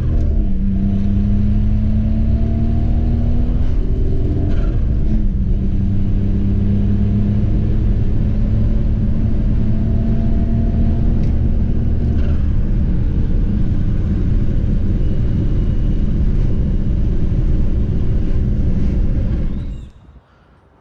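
A 1996 Suzuki Jimny engine runs close by with a loud, steady rumbling drone and a few small rises in pitch, then stops abruptly just before the end.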